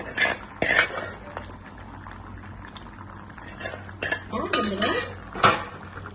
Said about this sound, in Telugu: ఇలా ఉడుకుతున్న పులుసులో రొయ్యలన్నీ వేసేసుకోవాలండి